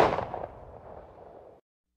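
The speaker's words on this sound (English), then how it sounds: "The track ends with the sound of a gunshot." A single gunshot sound effect closes out a music track: one sharp report that rings out and decays over about a second and a half before cutting to silence.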